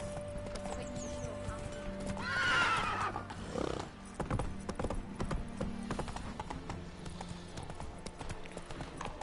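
A horse in The Witcher gives a loud, bright neigh early on, followed by steady clip-clopping hooves at a trot, with a voice briefly speaking underneath.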